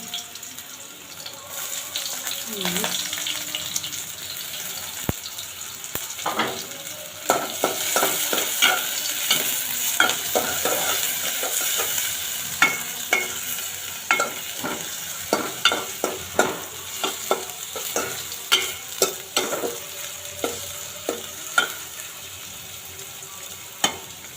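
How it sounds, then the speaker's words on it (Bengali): Oil with bay leaves sizzles steadily in a cooking pot on the stove, close and continuous, with repeated scraping and stirring clicks growing more frequent over the long stretch. "প্রথমে পাতিল দিয়ে তেল দিয়ে দিচ্ছি আর তেজপাতা দিয়ে দেবো"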